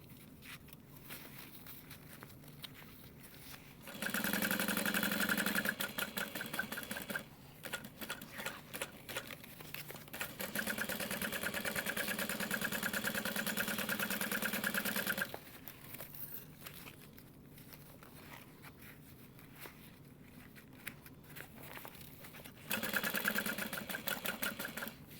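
A sewing machine stitches the curved seams of a pieced tote bag in several bursts of steady whirring, each a few seconds long, with quieter pauses between runs.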